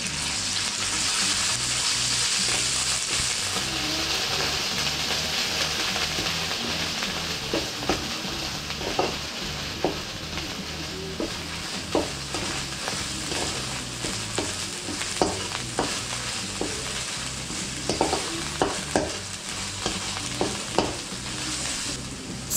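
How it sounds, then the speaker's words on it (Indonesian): Spice paste for Balinese sweet soy pork sizzles steadily in hot oil in a frying pan while a utensil scrapes and stirs in irregular clicks, close up and without talk. "setelah panas, kemudian saya tuangkan bumbu yang halus itu ke dalam penggorengan"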